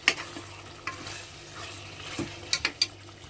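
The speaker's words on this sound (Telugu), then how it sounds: "ఇందులో మనము కట్ చేసి పెట్టుకున్న కొత్తిమీర అయితే యాడ్ చేసుకొని ఒకసారి చక్కగా ఇలా కలుపుకుందాము" Coriander is stirred into a gongura chicken curry in a pan, with a quiet scraping stir and a faint sizzle plus a few soft clinks of spoon against pan near the end.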